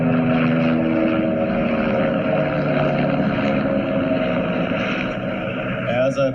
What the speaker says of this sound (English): Oh, here's my helicopter at home.